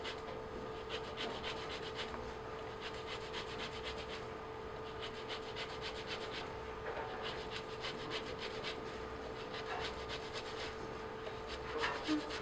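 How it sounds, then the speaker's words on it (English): Lemon rubbed against a zester, a close, steady scraping rasp with fine repeated strokes throughout. "get all the zest off."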